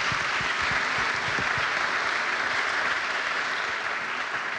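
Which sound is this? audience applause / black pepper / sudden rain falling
audience applause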